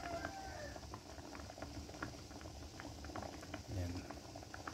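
Salted water boiling in a pot with tamban sardines for homemade tinapa, a steady bubbling and popping patter at moderate distance, with a voice speaking faintly over it.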